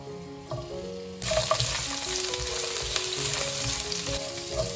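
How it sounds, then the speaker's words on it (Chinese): Five-finger peach root and ginger hit hot oil with a sudden loud sizzle that settles into a steady crackling fry, close up, with faint stirring underneath. "先把五指毛桃跟姜放进来炒香"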